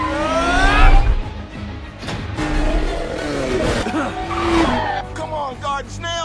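Race cars on a racetrack in the animated film Turbo, loud tire squeals and skids with rising and falling engine whines as cars swerve past, mixed with soundtrack effects.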